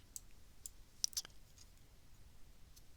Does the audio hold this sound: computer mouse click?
yes